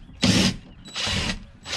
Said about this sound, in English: I'm gonna take my impact driver,